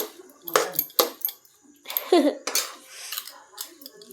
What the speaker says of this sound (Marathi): बघा आता छान असा परतून घ्यायचा आता.